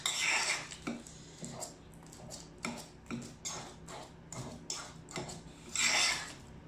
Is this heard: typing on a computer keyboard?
no